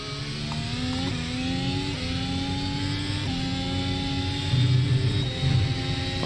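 An F1 car in iRacing screams at high revs, its engine note climbing and dropping sharply through repeated gear shifts, loud and continuous with no talk over it.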